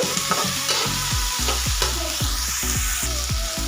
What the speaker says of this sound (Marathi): हे सर्व आपल्याला व्यवस्थित परतून घ्यायचं त्याचा कच्चेपणा जाईपर्यंत